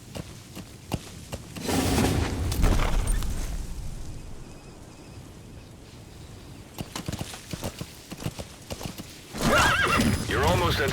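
A horse in Metal Gear Solid V: The Phantom Pain gallops with rapid clip-clop hoofbeats and lets out loud whinnies, the hooves fading and returning in bursts while a voice speaks over parts of it.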